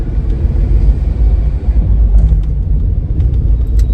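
Heavy, slow Friday road traffic rumbles from inside a vehicle, a loud, steady low engine drone with faint higher clicks and noises near the end.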